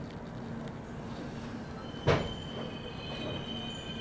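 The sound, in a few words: Ahmedabad Gorakhpur Express train departing Bina station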